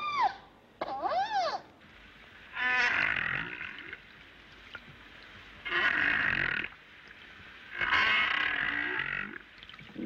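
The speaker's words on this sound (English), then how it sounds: "Sea life scatters at the cry of orca," Underwater cries of an orca killer whale, a series of loud, drawn-out calls: rising and falling whistles at first, then three longer harsh, buzzy cries separated by short silences.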